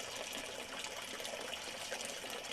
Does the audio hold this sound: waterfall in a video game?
yes